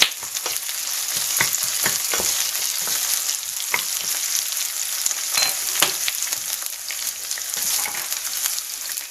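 Chilies and garlic sizzle steadily in hot oil for special fried rice, a dense continuous hiss with scattered sharp pops and spatters, close and fairly loud throughout with no talking.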